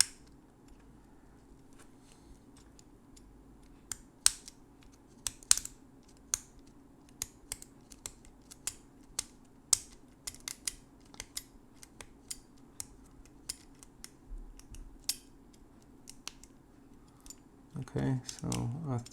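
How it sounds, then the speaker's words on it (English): Sharp, irregular snips of a small cutter slicing one by one through the metal leads of a chip on an Arduino Nano clone circuit board, close and crisp over a quiet background, with a louder scraping clatter near the end. "and now just leg after leg, or one lead at a time, I'll try to cut this chip out."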